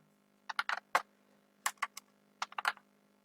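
Close computer keyboard clacking as code is typed, three short bursts of rapid keystrokes separated by brief pauses, over a faint steady hum.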